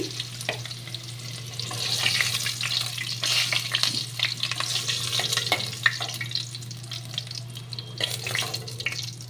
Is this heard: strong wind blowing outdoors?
no